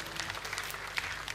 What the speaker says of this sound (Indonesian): tepuk tangan sekali lagi buat MNC Channel.